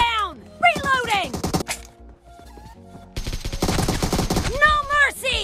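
AKM rifle gunfire in the mobile shooter BGMI: a dense run of rapid, loud automatic shots in the middle. Sweeping, shout-like voices and game effects come before and after it.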